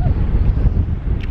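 Strong, gusting wind batters a microphone outdoors, a loud, steady low rumble with rapid buffeting throughout the short moment.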